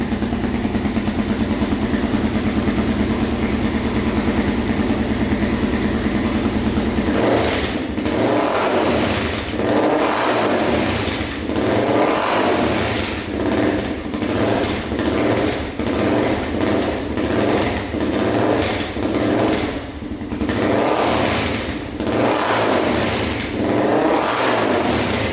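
A Honda 400ex ATV with a 416cc big bore engine running, steady idle at first, then repeated revving bursts rising and falling in a rhythmic pattern, loud and close with no talk.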